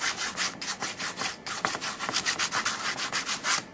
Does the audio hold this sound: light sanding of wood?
yes